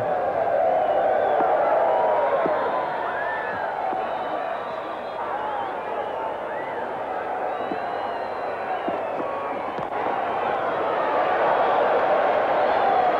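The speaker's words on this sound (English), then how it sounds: "The crowd, disappointed no doubt, trying to get the Mexican wave going." A cricket stadium crowd in South Africa rolls a Mexican wave around the ground, a steady broad roar of cheering that swells and eases, with commentary heard over it.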